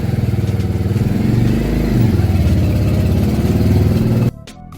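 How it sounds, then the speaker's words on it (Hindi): Two motorcycles carrying four riders run loud and close with a steady pulsing engine drone, pulling away before the sound cuts off abruptly near the end. "4 लोग 2 बाइक पे सवार निकल पड़े चूड़धार की तरफ"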